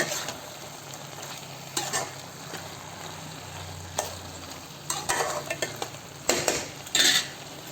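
Chicken gravy being stirred in a pan: steady scraping and spoon clatter over a low simmering sizzle, with a few louder knocks against the pan near the end, no talk.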